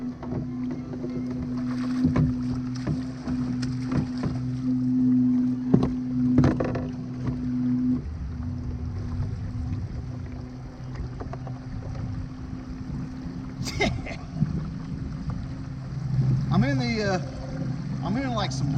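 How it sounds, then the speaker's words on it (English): Kayak pushes through river rapids in a steady broadband wash of rushing water and hull noise, with occasional knocks and splashes, while a voice talks intermittently over it. "I'm in like some rapids right now."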